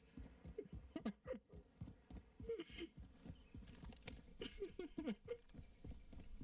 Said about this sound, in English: I'm hearing the footsteps.